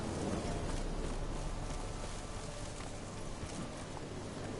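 Roach, the horse in The Witcher 3, clip-clops along with dense, steady hoofbeats over a noisy outdoor ambience, fairly loud and continuous throughout, with no voices.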